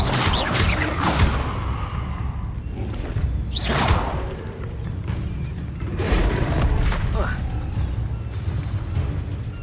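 Bombarda spell explosions in the video game Hogwarts Legacy, several loud booming blasts with whooshing bursts spaced a few seconds apart, set against continuous game sound and voices.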